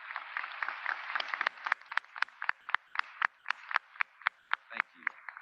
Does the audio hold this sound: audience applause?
yes